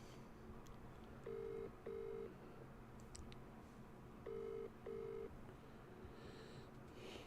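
A phone ringback tone repeats in two pairs of steady beeps, faint against a low background hum.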